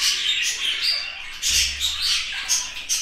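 A caged male budgerigar squawks and chirps in rapid, scratchy bursts, loud and close, with a faint low rumble in the background.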